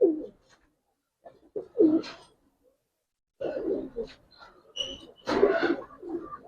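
Giribaz pigeons coo close up in short, throaty bursts separated by silent gaps, with a denser cluster of coos toward the end.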